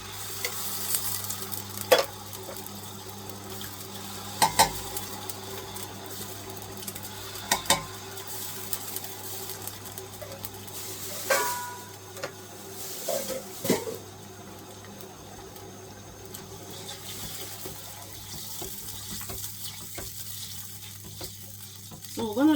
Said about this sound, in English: Then I'm going to be adding my 4 cans of tomato.